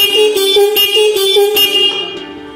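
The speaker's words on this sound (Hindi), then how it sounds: "मतलब सब हॉर्न एक एक बार बजते हैं।" Arduino-controlled electronic musical car horns blare one at a time in quick succession, each tone cutting in after the last, loud and close, fading out near the end.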